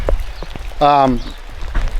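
Rain falls on a New Zealand homestead as a steady pattering wash close by, while a voice is briefly heard over it.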